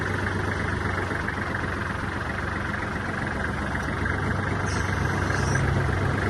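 A small Kubota GL-25 mini tractor engine idles steadily and close by, a continuous low rumbling drone with no voices.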